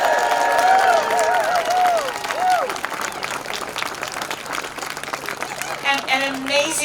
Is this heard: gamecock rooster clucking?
no